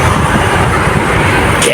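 Toyota Vios 2013 on a test drive after a clutch replacement, a steady engine and road rumble continuing throughout, loud and close, with a faint higher whine near the end.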